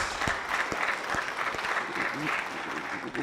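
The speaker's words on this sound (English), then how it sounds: "Let's give ourselves a resounding round of applause." Attendees at a stakeholder consultation meeting giving a round of applause, a soft, steady patter of clapping from a room of people with occasional louder thumps and faint voices.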